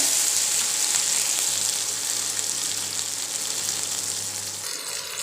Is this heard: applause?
no